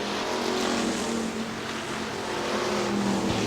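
Factory stock cars thunder out of turn 4 toward the checkered flag at Hartford Speedway Park in Michigan, a loud, unbroken engine roar with steady droning tones, close and dense throughout.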